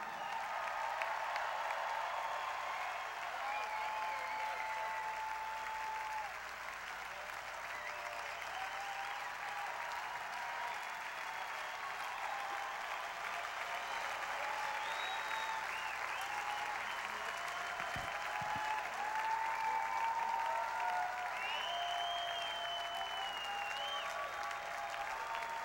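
Sustained applause and cheering from a large audience at a benefit concert for Hurricane Sandy relief, steady and loud throughout with scattered whistles.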